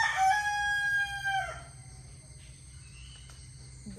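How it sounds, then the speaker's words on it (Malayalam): A rooster crows once, a loud, close, drawn-out call that cuts off after about a second and a half, leaving quiet outdoor ambience with faint insects. "ഈ കൂവുന്നത് നമ്മുടെ തന്നെ കോഴി കേട്ടോ"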